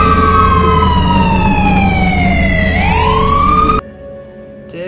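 A loud electronic police siren in a Roblox game wails close by, its pitch sliding down and then sweeping back up before it cuts off abruptly, leaving a lower hum.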